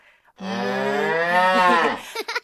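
A cow gives one long, loud, close moo lasting nearly two seconds, rich and drawn out, then tails off into a few brief rustling sounds.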